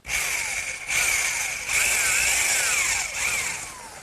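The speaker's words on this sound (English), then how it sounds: "now to drill the hole, I'm just using a 15/16 inch speed bit" A power drill fitted with a 15/16 inch speed bit bores through a wooden 2x4 for a garden swing, whining loudly in three close bursts with brief pitch dips as the bit bites.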